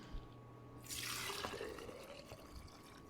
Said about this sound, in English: we're going to pour this right into this quart mason jar